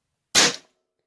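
A single sharp shot from a Hatsan Flashpup .25 air rifle, a crisp crack that decays quickly and stands alone in silence.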